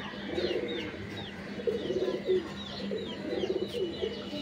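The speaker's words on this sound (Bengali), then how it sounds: "এই কবুতরটা হলো মাদি কবুতর" Pigeons coo softly in a loft, a female among them, with repeated low rolling coos and a few faint higher chirps from other birds over a quiet background.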